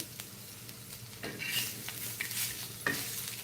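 Garlic and coconut roast in a pan for fish curry, a soft sizzle with a few scraping stirs of a spatula against the pan, close and quiet, no talking.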